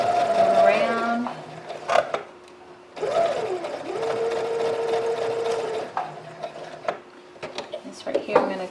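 A sewing machine stitches puffed sleeve fabric in several close, whirring bursts separated by short pauses and clicks, while a person talks over and between the runs.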